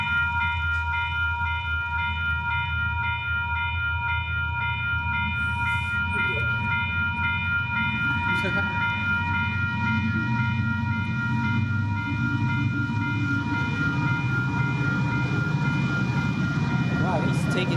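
Locomotive 113 passes at full throttle on a smoky day, a loud sustained engine roar with steady tonal harmonics and rumbling rail noise throughout, with a brief horn-like tone.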